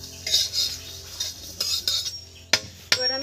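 A metal spatula scrapes and stirs in a pan of amla pickle, giving light scraping clinks in an uneven rhythm that end in two sharper knocks against the pan, close and alone.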